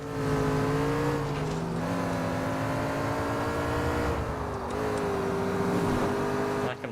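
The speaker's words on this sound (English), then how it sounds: "Listen to this engine." Engine of a car running close by, a steady low hum with a rising and falling rev pitch that shifts a few times, ending with a brief knock.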